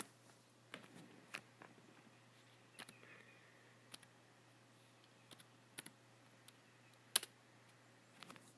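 Keys tapped one at a time on a Pomera DM100 portable writing device keyboard while entering a pairing code, sparse close clicks spread out with pauses in a quiet room.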